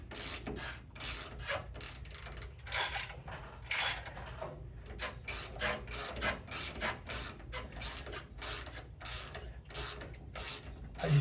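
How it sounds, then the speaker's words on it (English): A ratchet wrench turns the rear shock bolt on a 1971 Pontiac LeMans. Rapid rhythmic clicking comes in bursts with brief pauses, close and crisp, and no voices. "I like to just put pressure on it until the shock bolt spins pretty easy."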